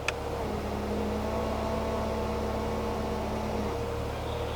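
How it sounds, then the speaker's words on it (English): A 2021 Chevrolet Corvette C8 front lift system raising the nose of the car, a steady low electric whir or hum lasting a few seconds over faint background noise, starting after a small click and then stopping. "There's also this button here that actually lifts the front of the car on command to help clear speed bumps."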